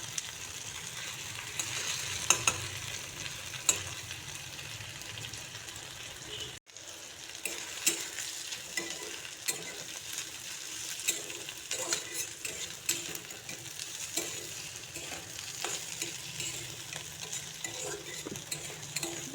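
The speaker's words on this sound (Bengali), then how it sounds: "একটু মশলাটাকে ভেজে নিচ্ছি, তাহলে কাঁচা গন্ধটা চলে যাবে।" Ginger and radhuni spice paste frying in oil in a pan while cooking radish, a soft continuous sizzle broken by repeated scraping and clinking stirs of a utensil against the pan, close and fairly quiet, with no talking.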